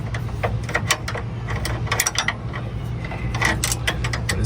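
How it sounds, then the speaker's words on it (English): Ratchet wrench turning a fastener while installing a new axle and thermostat on a Ford Crown Victoria, a steady run of close, sharp clicking over a low hum of the workspace. "you just take this, you just keep screwing"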